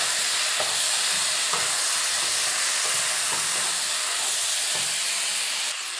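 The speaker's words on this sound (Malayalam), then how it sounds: "മിക്സ് ചെയ്യാം, നല്ലപോലെ ഇളക്കി യോജിപ്പിക്കാം" Beef and vegetables with soy sauce stirred in a hot pan, a constant close sizzle and hiss with faint scraping strokes recurring every second or so.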